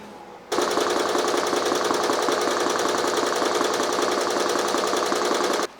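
An embroidery machine stitches a large design onto a hoodie, starting after a brief pause into a loud, steady, rapid mechanical rattle that runs unbroken at close range, with no talk over it.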